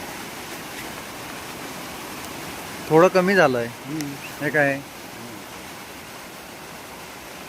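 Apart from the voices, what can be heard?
flooded Jamda river water flowing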